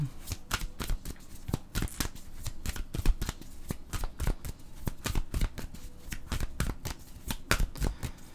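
A deck of mirror oracle cards is shuffled, giving a long, continuous run of quick, crisp riffling slaps and flutters at close range with a steady rhythm.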